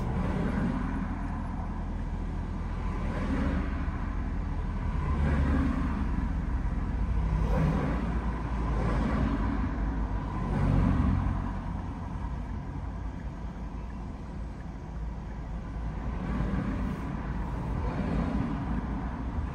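A passing car on a road during a driving lesson, heard from inside the learner's vehicle as a steady engine and road rumble that swells and fades a few times, with no talk.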